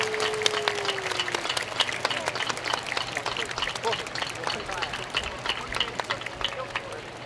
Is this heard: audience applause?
yes